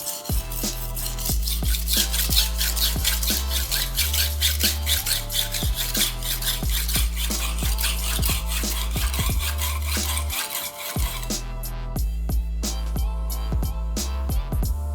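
A chef's knife is sharpened on a Japanese whetstone, its blade rasping back and forth in steady, rhythmic strokes, close and loud, with no talk.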